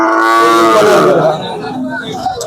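A cow at a cattle market lowing once, a long loud moo up close, trailing off into market chatter and background noise.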